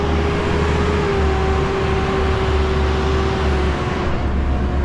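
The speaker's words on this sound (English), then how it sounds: "very noisy because we've got this construction truck right over here" A construction truck runs nearby with a loud, constant low engine rumble and a steady tonal whine, heavy noise that stays unbroken throughout.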